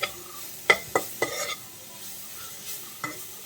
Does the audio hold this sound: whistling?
no